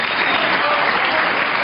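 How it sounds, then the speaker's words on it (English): A snooker crowd at the Crucible gives a standing ovation at the 2009 World Championship, steady dense applause filling the hall throughout, loud and unbroken with no voices over it. "as the crowd give him the standing ovation"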